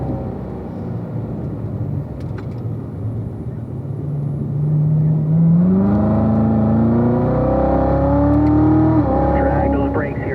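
A race car drives around a track, its engine droning loud and steady, then rising in pitch through a light acceleration between corners, with a voice talking over it.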